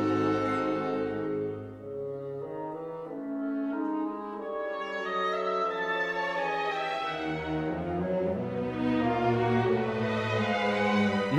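Orchestral music from the 1941 Wolf Man film score: sustained, brooding low brass and strings swell and shift in slow chords, playing alone at a moderate level.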